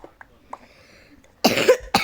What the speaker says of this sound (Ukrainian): Вибачте за кашель і такий голос